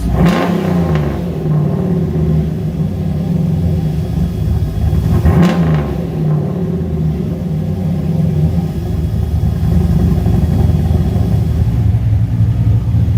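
A turbocharged 349 stroker V8 in a Foxbody Mustang revs hard twice, a brief roar that hangs and falls back, then settles into a steady, loud, rumbling idle.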